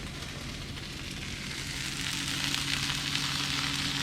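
Onions caramelizing in a pan give a dense, continuous sizzle and crackle that grows slightly louder halfway through, close and steady with no talking.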